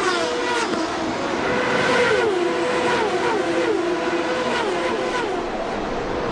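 IndyCar race cars roar past at the Molson Indy Toronto street race in 1993, engines continuously revving and shifting pitch as they pass, with crowd and track ambience underneath.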